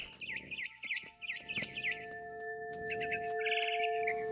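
A bird chirps in the video game What Remains of Edith Finch. It gives quick repeated warbling calls in several bursts, fairly close and clear, over a soft steady tonal hum, with no talking.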